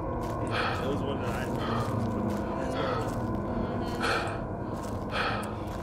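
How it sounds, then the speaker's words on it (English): A video game character with asthma breathes loudly in repeated raspy gasps and wheezes, a steady cycle of heavy inhales and exhales running through the whole stretch. "I'm going to try not to have him breathing so loud in y'all ear"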